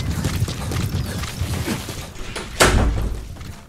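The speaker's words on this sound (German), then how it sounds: "das war die Katze, die an die Tür gesprungen ist" A cat jumps against a door, making one heavy, close thud with a short rattle. It stands out over a steady bed of background game noise.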